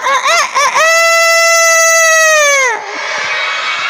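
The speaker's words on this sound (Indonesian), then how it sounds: "Ayam jago" A rooster crow: a few short, wavering notes, then one long, loud, sustained crow that drops off sharply at the end, followed by quieter background noise.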